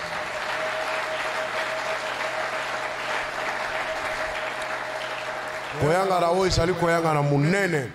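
A church congregation applauds steadily at a worship anniversary service, a dense, even wash of clapping lasting several seconds, then a voice begins singing or chanting loudly over the end of it.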